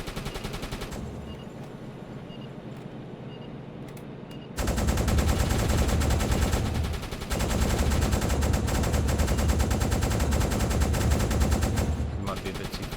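Rapid machine-gun fire in Uboat aimed at a diving aircraft, a lighter rattle at first, then sustained loud, dense bursts from several guns with a brief pause midway.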